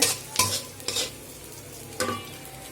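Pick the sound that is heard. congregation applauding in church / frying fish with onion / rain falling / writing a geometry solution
frying fish with onion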